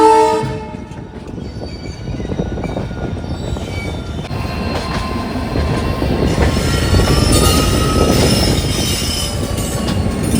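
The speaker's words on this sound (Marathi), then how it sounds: "आला आता पुरी स्टेशन. हे असे कामं चालू आहेत ना संडे नाचचा, त्याच्यामुळे लेट होत गेली ट्रेन." A train pulls into the busy Puri railway station, with a horn blast at the start followed by loud, sustained rumbling, wheel squeal and rattling carriages close by.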